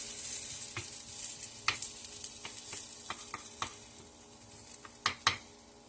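Burger and onions frying in a pan, a steady bright sizzle with scattered pops and a few louder clacks of utensils near the end.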